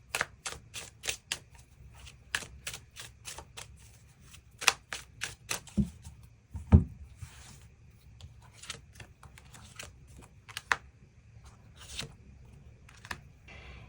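Tarot cards are shuffled and drawn close by, giving a run of crisp, rapid flicks and slaps with a few louder snaps and soft rubbing in between.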